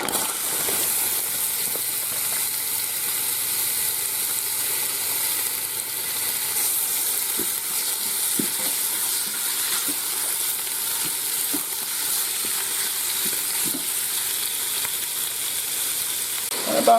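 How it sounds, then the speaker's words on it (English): Beef sizzles in olive oil inside a Ninja Foodi, a steady, bright frying hiss with occasional small pops and crackles continuing throughout. "Alright guys, I'm going to put some olive oil in here. Alright, gonna dump my meat in there."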